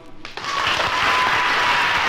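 A 1959 television studio audience bursts into applause, starting with a few scattered claps and quickly swelling into loud, sustained clapping from the whole crowd.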